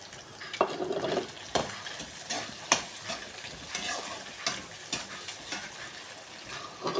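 Onions frying in a pan with stirring, a steady quiet sizzle broken by occasional scrapes and clinks of a utensil against the pan; no voices.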